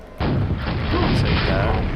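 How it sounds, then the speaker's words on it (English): A rocket launcher blast in Quake bursts in with a sudden loud boom, then a rumbling explosion that lingers for nearly two seconds. "Rocket launcher."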